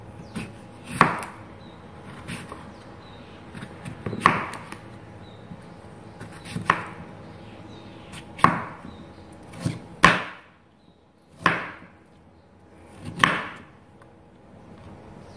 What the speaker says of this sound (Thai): หลังจากล้างให้สะอาดเสร็จแล้วเราก็หั่นเป็นชิ้นชิ้น